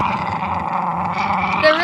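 Dogs growl continuously and close up while battling over a stick, a steady rough rumble lasting throughout with no talk over it.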